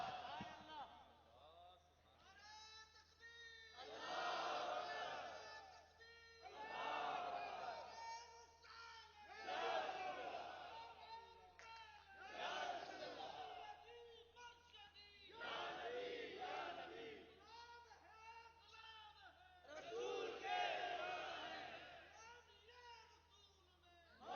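At a gathering in Golra Sharif, Islamabad, a large crowd chants slogans in loud rhythmic unison bursts, roughly every few seconds, with short pauses between each shouted call.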